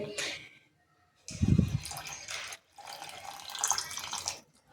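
Water is poured into a pressure cooker for a chicken dish in three separate bursts, splashing and gurgling close by, with brief silent gaps between pours.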